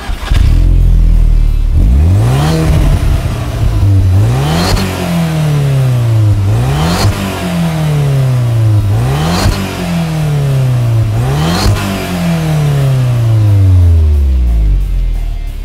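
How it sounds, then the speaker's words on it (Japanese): An Audi TT 1.8T sports car's exhaust revs repeatedly, about five sharp throttle blips rising and falling in pitch, loud and close with a deep rumbling idle between them. "試乗の前に一回マフラーの音を聞いてください"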